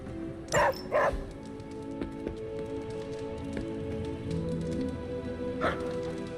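A dog in the Marvel Midnight Suns video game gives two quick barks early and a third a few seconds later, close and loud over a soft, steady rain-like background hiss.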